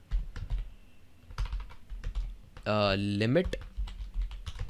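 Code is typed on a computer keyboard in quick, irregular bursts of clicky keystrokes, while a voice speaks over the typing.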